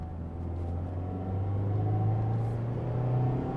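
From inside the cabin, the 181-horsepower engine of a 2024 Mazda MX-5 Miata gives a steady, moderately quiet drone that rises slightly in pitch as the car accelerates.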